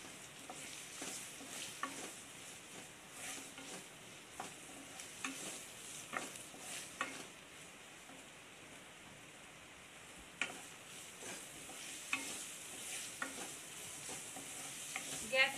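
Chopped onions sizzle and fry steadily in a pan for white sauce chicken macaroni, with scattered clicks and scrapes of stirring breaking through the constant crackle, close and moderately quiet, no voices.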